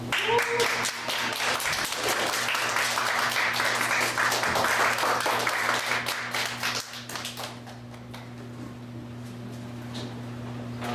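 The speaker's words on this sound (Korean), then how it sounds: "항상 강사님들 나올 때 세 배로 큰 박수 부탁드리겠습니다" Church training-session audience applauds as a pastor is welcomed to the front, dense clapping for about seven seconds that thins and fades, with a steady low hum underneath.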